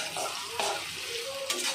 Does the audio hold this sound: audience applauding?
no